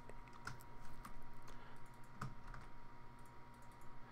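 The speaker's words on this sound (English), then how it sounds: "just typing this in." Quiet typing on a computer keyboard, a sparse run of soft key clicks at an irregular pace, faint and close, with no talk over it.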